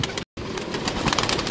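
Breeder pigeons kept out in the sun coo softly amid a busy outdoor hiss, with the sound cutting out for a split second near the start.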